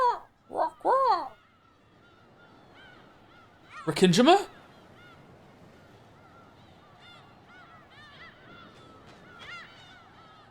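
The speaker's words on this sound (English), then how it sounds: "Same ass fucking seagull sound effect" Seagull sound effect in the video game Pragmata: a few sharp, honking squawks burst out at the start and again around four seconds, then fainter calls sit in a quieter background, with a voice speaking briefly.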